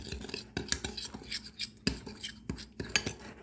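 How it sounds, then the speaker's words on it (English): A spoon clinks and scrapes around a bowl while stirring a sugar and two-teaspoon cinnamon mixture for pumpkin snickerdoodles, a quick irregular series of soft taps close by and fairly quiet, without speech. "get this stirred up real good here"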